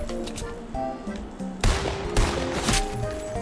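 Rapid gunfire from Fortnite bedwars, a string of close, sharp shots with a dense burst of fire in the middle, over a steady game-sound background.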